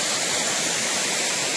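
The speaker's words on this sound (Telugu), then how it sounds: "చూసారు కదా ఇప్పుడు వాటర్ ఫాల్ అయితే ఏ విధంగా ఉందో. చాలా జాలు పడుతుంది." Pedabayalu waterfall pours down heavily in a dense, steady roar of falling water, close and unbroken, with no other sounds.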